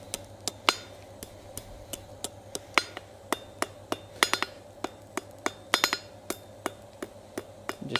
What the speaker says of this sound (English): You don't have to hammer this like crazy.